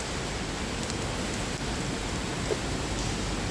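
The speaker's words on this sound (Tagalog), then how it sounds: "So, nababasa siya ng ulan." Rain falling on a tree, a steady even wash of dense drops across the whole clip, close and moderately loud with no other clear sounds.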